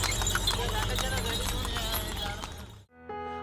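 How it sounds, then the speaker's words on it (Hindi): Hooves of a horse pulling a tonga clip-clop in a steady, quick rhythm on a road in Bihar, close and clear, before the scene cuts abruptly to a different sustained tone. "सड़क पर चलता ये घोड़ा तांगा और घोड़े के पैरों की पगध्वनि"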